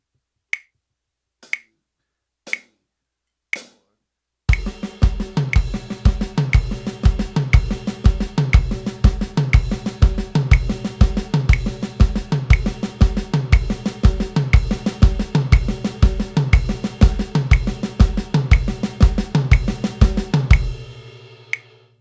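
Four sharp count-in clicks, then a full drum kit groove with a steady kick drum and cymbals driving a fast, even rhythm, ending with a ringing crash.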